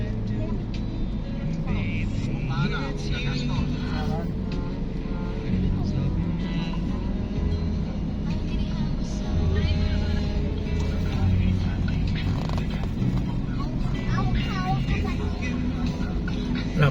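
Busy city street traffic in Santa Mesa, Manila: a continuous rumble of car and bus engines with passing vehicles, nearby and loud, while people talk over it.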